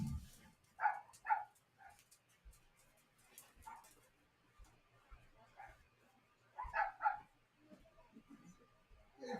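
Several dogs bark in short, faint, distant pairs of yips and woofs, with some whimpering, scattered at intervals over quiet indoor background noise.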